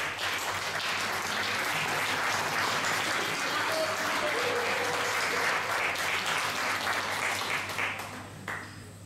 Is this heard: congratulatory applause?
yes